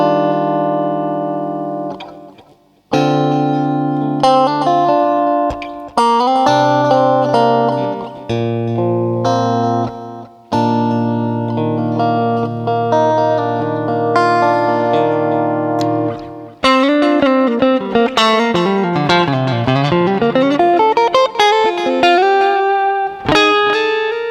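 An electric guitar played through a Zoom GFX-3 multi-effects preset rings out alone, with sustained distorted notes and chords, brief pauses, and a wavering, pitch-bending passage near the end.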